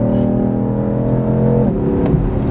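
A BMW M3 or M4 engine pulls hard on a race track, a loud, continuous rising drone filling the whole stretch, with a gear change near the end.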